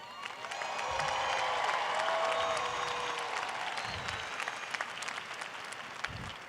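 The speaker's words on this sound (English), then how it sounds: "can I get a round of applause for all of the family and friends with us today?" Sustained applause from a large crowd of family and friends at a college commencement ceremony, steady and fairly even for several seconds, heard from a distance in a big hall with a few faint cheers mixed in.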